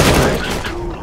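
A short burst of rapid gunfire from the video game Counter-Strike, Operation Shattered Web, loud and close, fading over about a second.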